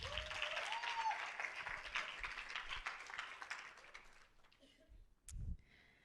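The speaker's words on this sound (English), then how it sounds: "Please give yourselves a round of applause" Closing applause from a youth climate conference audience in South Africa, a dense wash of many hands clapping that fades out after about four seconds, followed by a brief low thump and near silence.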